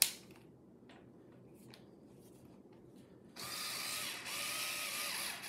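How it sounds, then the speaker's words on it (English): Screws are tightened on the chassis of a Roland VGA-5 amplifier. After a quiet pause with light handling clicks, a steady close-up mechanical whirring runs for about two seconds, like a powered screwdriver driving a screw home. "Once you've got all these screws threaded like this, you go ahead and tighten them all."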